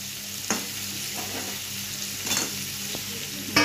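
Eggs fry and sizzle steadily in a pan, close and continuous, while a utensil stirs them in several distinct scraping strokes over the hiss.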